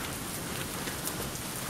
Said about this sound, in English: As you can see, it's pouring down rain.